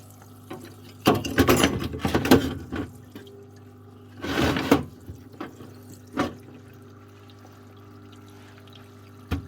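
Paslode IM360CI nailer parts are swished and rinsed in a kerosene parts washer, giving bursts of splashing and dripping liquid separated by quieter pauses, close up.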